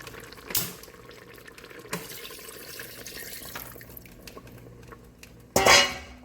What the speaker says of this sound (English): So I'm gonna add another cup of water to it.